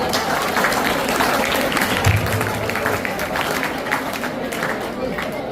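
Audience applause at a Teachers' Day event as a chief minister is welcomed: dense, busy clapping from a large crowd mixed with background chatter and hubbub, continuing steadily throughout.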